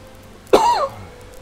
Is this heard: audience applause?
no